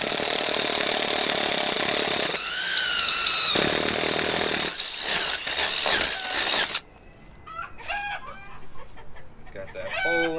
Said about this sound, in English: let's drill our hole here with our speed bore